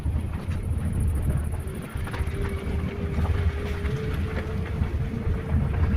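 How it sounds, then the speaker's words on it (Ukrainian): Electric commuter train passing at a distance at night, a steady rumbling roar with a faint drawn-out tone, heard outdoors with some wind noise on the microphone. "Це електричка."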